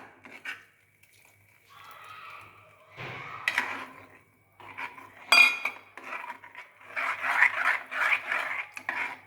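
A spoon scraping and clinking against a metal pot as buttermilk is stirred into okra curry, with irregular bursts of rubbing and clatter, close by.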